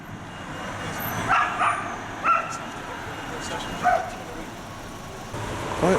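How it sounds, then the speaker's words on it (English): A noisy dog near a busy road in Sheffield lets out a few sharp, yelping barks at a distance, spread irregularly over steady traffic rumble. "There's a very noisy dog near there."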